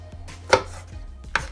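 Garlic being chopped into small pieces on a cutting board while preparing a marinade for spicy grilled salmon, two sharp knife strikes, close and crisp, with a quiet gap between them.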